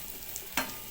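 Minced onion sautés in a pan with Alexandrian-style sausage, giving a brief, soft frying hiss and one louder burst of sizzle near the end.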